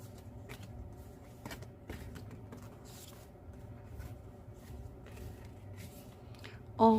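Tarot cards being shuffled by hand, soft quiet riffling and flicking in short irregular bursts, faint and close with low room hum beneath.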